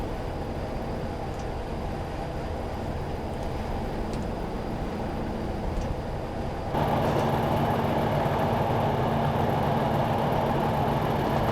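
A BR Class 40 diesel locomotive engine in Train Simulator 2016 drones steadily, then steps up into a louder, fuller roar as it accelerates slowly under heavy load, with faint rail clicks.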